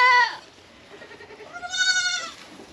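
Goats waiting for a bottle feeding bleat nearby: one short, loud call at the start, then a fainter murmur, then a longer wavering bleat.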